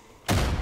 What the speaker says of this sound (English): Oh, the car blew up.